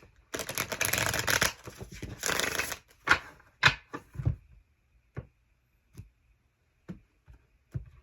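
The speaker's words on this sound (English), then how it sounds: "let me shuffle these" Tarot cards are riffled and shuffled close up in quick papery bursts, followed by scattered soft taps and clicks as the deck is squared, with no talking.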